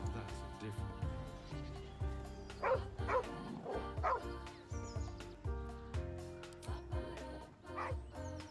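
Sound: dog barking in video game Baldur's Gate 3

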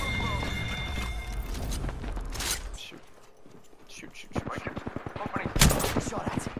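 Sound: gunfire in the video game Apex Legends

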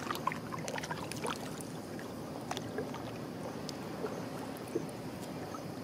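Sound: water spilling over all at once

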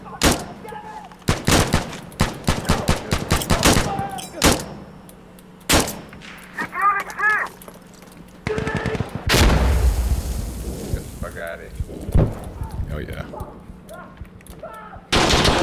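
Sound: gunfire in the video game Insurgency Sandstorm

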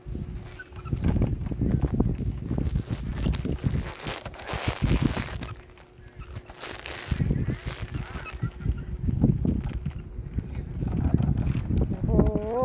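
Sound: strong wind blowing in a garden

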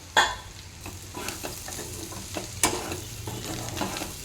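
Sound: black-eyed peas and chicken frying in a pan

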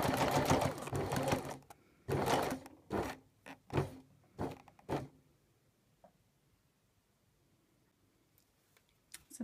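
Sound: sewing machine stitching fabric casing

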